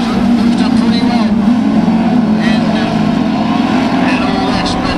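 Class 4 autograss race cars racing at the 2013 nationals, engines droning loud and constant as a pack, with a commentator talking over the noise.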